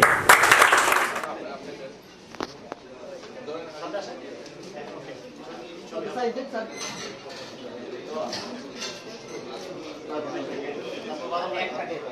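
A burst of clapping opens at a prize ceremony, loud and brief for about a second, then fades into scattered claps and crowd murmur as people talk over it.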